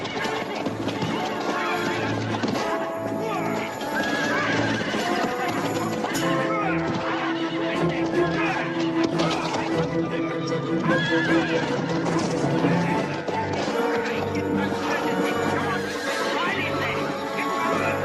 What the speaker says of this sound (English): The horses won't trample on us!